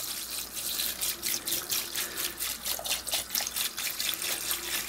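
Evaporust rust remover poured from a gallon jug into a Tupperware container, a steady splashing, gurgling pour with rhythmic glugs from the bottle, close up and alone.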